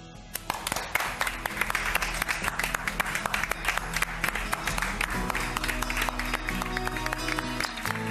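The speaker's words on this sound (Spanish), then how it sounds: "no es común que una redacción entera se ponga de pie a aplaudir a alguien que se va" Newsroom staff standing to applaud a departing colleague, a dense, lively burst of many hands clapping continuously at close range, with scattered cheers and voices mixed in.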